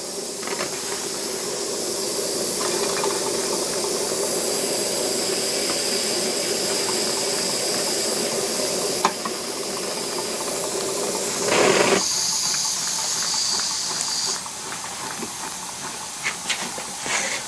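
An antique Jensen/Weeden toy steam engine with a worn gasket runs very slowly, giving a steady close hiss with faint mechanical ticking and a brief louder burst of steam partway through.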